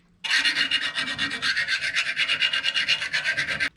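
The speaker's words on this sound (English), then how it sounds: "you're going to have to hand file out with rat tail file" A rat tail file is worked by hand against a metal motorcycle part for an XS650 triple tree, giving a loud, close rasp in about twenty quick, even back-and-forth strokes with no talking.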